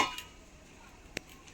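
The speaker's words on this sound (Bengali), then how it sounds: "এই থালাটা ঢাকা দেব।" A metal plate is set down over a cooking pan with ghee just added: one sharp, bright metallic clink stands out in a quiet kitchen, preceded by a softer clatter at the start.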